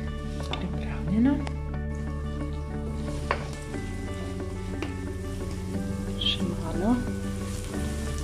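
Onion fries in a pan with a steady low sizzle and occasional stirring scrapes, while a person talks over it at moderate volume.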